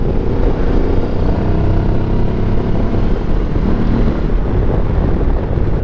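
The Benelli TRK702 motorcycle engine accelerates in a steady, loud roar that is heavily masked by constant rushing wind buffeting the microphone, with no clear change in pitch.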